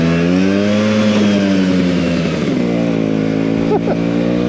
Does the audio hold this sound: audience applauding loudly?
no